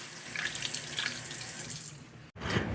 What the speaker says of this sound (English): So let's keep a steady stream of water and just multiple times.